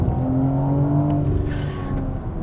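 A 2022 BMW M4 Competition Convertible downshifting, its engine giving a loud, close, steady low drone with a brief rise in pitch partway through, heard from inside the open-top car.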